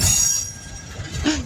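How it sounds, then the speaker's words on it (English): A long coal train rolls past a railroad crossing near Mount Hope, West Virginia, a steady close rumble of rail cars with a rising wheel squeal near the end, no voices. "Done a little bit of running to get down here to film the train."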